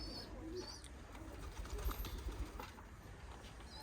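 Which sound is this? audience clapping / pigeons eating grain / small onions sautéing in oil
pigeons eating grain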